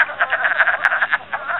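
Wood frogs calling in a steady, dense chorus of rapid clucking croaks, overlapping and fairly close, with no talking.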